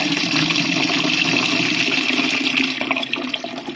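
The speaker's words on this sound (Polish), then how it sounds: "I teraz trzeba z tego hydroforu tu jakoś wodę spuścić." Water gushes from the drain valve of a hydrophore pressure tank into a bucket, a steady loud rushing splash that wavers and thins slightly toward the end.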